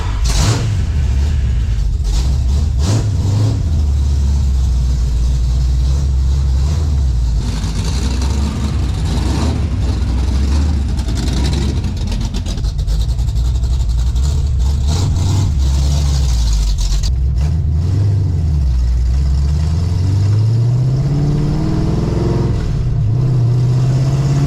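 A 1971 Ford Mustang engine idles and revs repeatedly, rising and falling swells of a rumbling V8-style exhaust up close, with a climbing rev near the end and some background noise.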